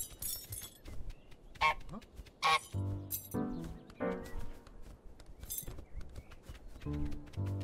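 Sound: goose honking in Untitled Goose Game, video game

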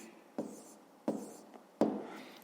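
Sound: writing a math answer

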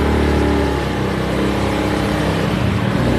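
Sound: Honda Beat scooter engine revving climbing uphill

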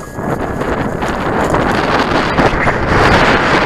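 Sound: strong wind

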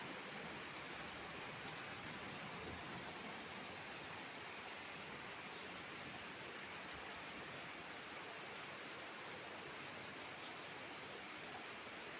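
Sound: heavy rain or hail falling

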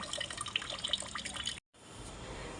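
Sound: water being poured into a mixture

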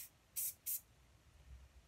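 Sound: spraying adhesive glue onto a can cooler

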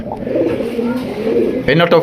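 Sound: pigeons cooing

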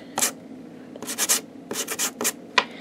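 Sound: sanding epoxy resin badges with a nail file

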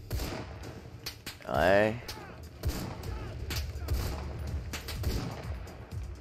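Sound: gunfire in the video game Enlisted

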